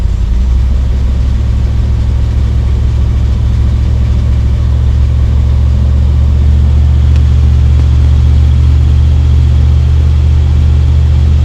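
El Camino engine running with a manual choke, a loud steady low rumble and idle that holds continuously throughout, with no talk over it.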